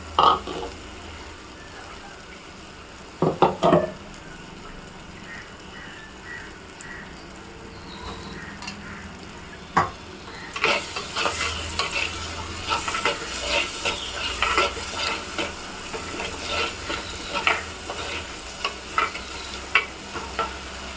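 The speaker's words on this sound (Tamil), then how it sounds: "நல்லா இது எண்ணெயில் பொரியணும்." Spices fry in oil for a roasted potato pepper masala curry: a faint sizzle with a few stirring knocks, then a louder, busier crackle and hiss joins about halfway through and continues to the end.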